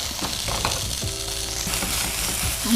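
Onions fry with ginger garlic paste in a pan for Kerala chicken roast, giving a steady close hiss and sizzle with occasional stirring scrapes and no speech over it.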